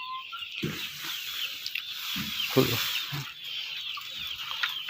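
Desi (RIR) chickens clucking softly as they step out of an opened coop on a poultry farm, scattered low clucks in short bursts over a steady background hiss.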